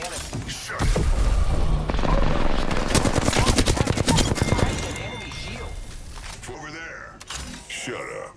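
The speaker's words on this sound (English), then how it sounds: "Opening fire on the enemy." Sustained automatic gunfire and booms in Apex Legends ranked play, loud rapid bursts dominating the first half before tapering off, with game voice lines and a player talking throughout.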